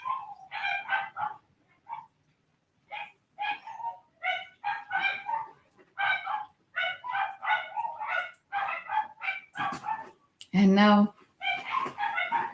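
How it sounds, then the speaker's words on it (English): Neighbor's dogs bark in the distance, short yaps scattered behind a calm speaking voice, with one louder, fuller bark near the end. "You probably hear the neighbor's dogs barking"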